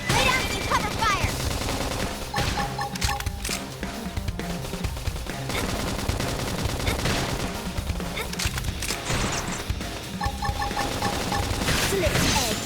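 Sustained gunfire in Xenoblade Chronicles X, dense rapid bursts and blasts layered with combat effects and battle music, loud and continuous, with character voices shouting over the action.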